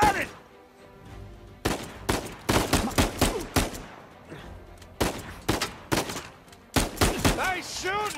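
Bursts of gunfire in the video game Uncharted 4, loud and close, coming in rapid volleys of sharp shots separated by brief pauses, with a voice heard in the gaps.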